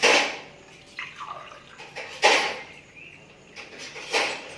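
Water is poured onto rice in a pressure cooker, with a few splashy bursts of pouring and dripping close by and no talk.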